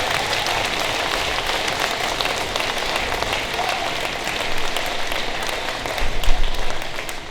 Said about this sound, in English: Let's give a big round of applause to Riverway Church.